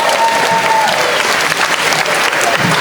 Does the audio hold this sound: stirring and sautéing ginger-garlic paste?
no